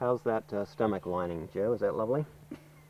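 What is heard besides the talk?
No everyday noises stand out.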